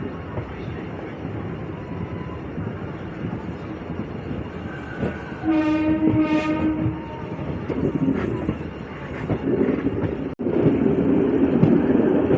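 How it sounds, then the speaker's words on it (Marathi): An Akot passenger train moves along the Akola–Khandwa line, its wagons rumbling steadily throughout while a loud horn blast sounds near the middle, followed by heavier rolling noise toward the end. "आपली अकोला खंडवा रेल्वे लाईनवर आपली गाडी समोर जात आहे."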